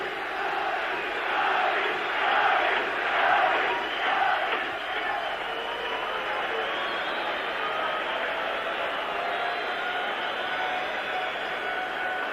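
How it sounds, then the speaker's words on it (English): A big crowd roars on the terraces of a football stadium during a 1981/82 UEFA Cup match between Radnički Niš and Dundee United, a dense, continuous wash of noise that swells early and then holds steady, with no commentary over it. "Great cacophony from the terracing"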